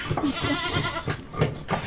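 Several goats bleating close by in a cool, overcast rural setting, a few overlapping wavering calls in quick succession.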